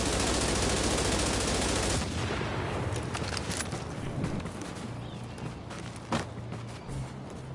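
Gunfire from The Division rattles in dense, continuous bursts while the character strafes, loud and close at first, then thinning into scattered shots and footstep-like thumps.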